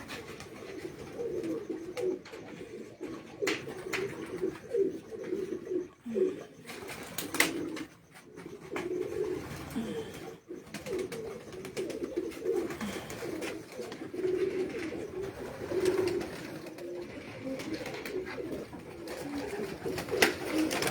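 Racing pigeons on a rooftop in Punjab coo steadily, soft repeated calls overlapping close by, with occasional flutters of wings and no talk.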